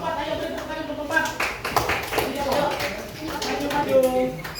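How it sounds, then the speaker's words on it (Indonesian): A classroom group applauds a fourth student group, scattered hand clapping mixed with voices talking and calling out over it. "Ayo beri tepuk tangan kelompok 4"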